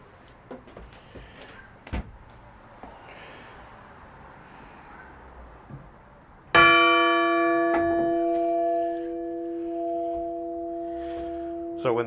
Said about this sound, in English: Oh, let's hear what the bell sounds like.